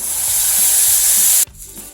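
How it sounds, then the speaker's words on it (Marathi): Water poured into a hot oil tempering for kande pohe, a loud, close hissing sizzle that holds steadily, then cuts off abruptly near the end, leaving a quieter simmering bubble. "ह्या फोडणीमध्ये पाणी घालून घेणार"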